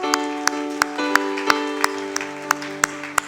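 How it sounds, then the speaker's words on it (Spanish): A church congregation at a Spanish-language worship service gives a steady round of applause, regular loud claps ringing out over a sustained organ or keyboard chord. "Dale un aplauso, Señor."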